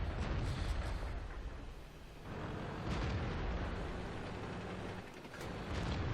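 Tank cannon fire in World of Tanks from a T20 medium tank, heavy booming blasts within a constant loud, rumbling wall of battle and engine noise, with no voices.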